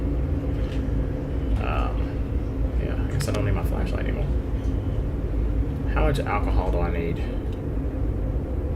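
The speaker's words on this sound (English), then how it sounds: "If you're hearing that noise right now, that's a train going by." A train passes next to a house, heard as a continuous low rumble all the way through, with someone talking over it and game sounds in the mix.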